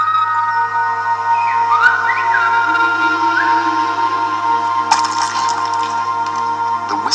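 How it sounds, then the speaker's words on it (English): A Gomeran whistle from La Gomera, the whistled language of the Canary Islands, sounds as sustained, sliding high tones with rising and falling pitch glides, carried clearly over a steady low hum without any talk. "The Gomeran whistle is in the island,"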